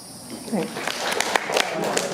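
At a memorial service, an audience claps in a short, moderately loud patter of many hands, with voices murmuring beneath it.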